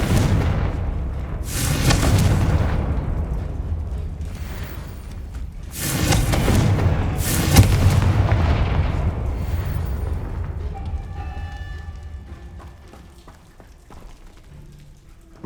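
Spell explosions from Confringo and Bombardo in the Hogwarts Legacy video game: several loud booming blasts in succession, each followed by a rumbling rain-like crackle of debris that fades into quieter ambience.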